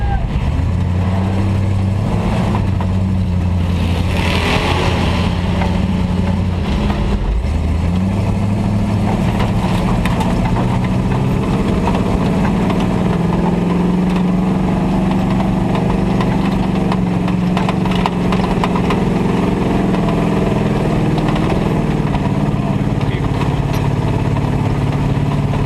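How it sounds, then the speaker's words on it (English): A recovery truck engine at night revving up under throttle, a loud, close mid-pitched roar that rises in pitch and holds steady, with faint voices underneath. "Throttle up on this one."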